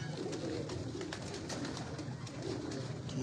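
Pigeons coo at a distance on an open rooftop in Wazirabad, the calls faint and blended into steady background noise.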